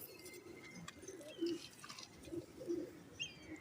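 Pigeons give several soft, low coos at irregular intervals, with faint chirps and light background noise around them.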